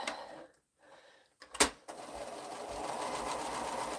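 A home sewing machine stitching quilt seams runs in a steady whirring stretch after a brief pause and a sharp clack, close up and continuous.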